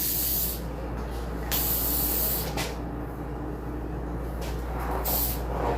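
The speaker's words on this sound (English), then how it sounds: "I'm gonna just use a little spray" Several hissing bursts from a spray can, short blasts separated by brief pauses, close up.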